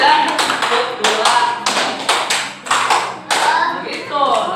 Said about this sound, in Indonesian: Ada tepuk 2.